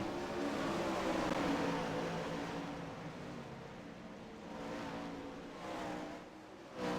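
410 sprint car engines racing at Volusia in a sim racing game, a dense roaring engine drone that swells and fades as the cars lap, loud at first and then easing.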